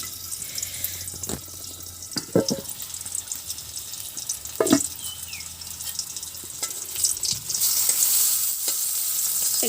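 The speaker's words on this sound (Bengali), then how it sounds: "হালকা আছে ঢেকে রেখে এটা ভাজি করছি, তেলও কম লাগছে" Food fries in a covered pan with little oil in a village kitchen, a constant close sizzle punctuated by scraping stirs, growing into a brighter, denser hiss toward the end.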